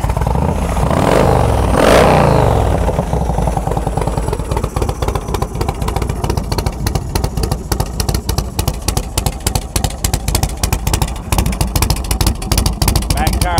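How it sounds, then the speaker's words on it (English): A 2005 Yamaha Roadstar motorcycle engine is revved: a loud rumbling burst of throttle early on, then it settles into a steady, close-up idle rumble that continues to the end. "Got a real nice rumble to it. Give it a little bit of gas up here."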